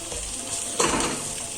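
Curry leaves hiss and crackle in hot oil for a veg biryani. The steady close sizzle flares up sharply partway through and then settles to a constant frying noise.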